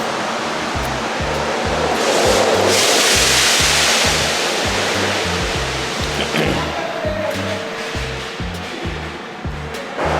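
High-pressure spray at a commercial truck wash in Edmonton, Alberta, blasting water over a big truck in a steady loud hiss, with a rhythmic low mechanical pulsing throughout.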